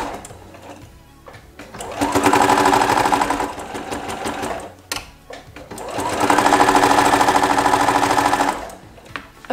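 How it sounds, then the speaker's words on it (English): Sewing machine running with a 1/4 inch foot, stitching quilt strips together in two loud, steady bursts of whirring with a short pause between them and quieter handling before, after and in the gap. "we are just going to sew right here using our 1/4 inch foot"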